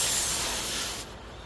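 A short squirt of water spray while washing a car outdoors at a home garage, a loud broadband hiss lasting about a second before cutting off to quiet.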